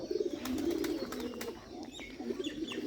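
Pigeons in a loft, including a red Bengal pigeon, coo in soft, repeated rolling phrases close by, with a few light chirps and rustles around them.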